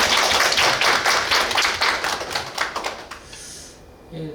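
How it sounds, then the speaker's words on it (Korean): An audience at a university lunchtime lecture gives a round of applause, crisp clapping that is loud at first, thins out and fades within a few seconds. "박수 한번 치시죠."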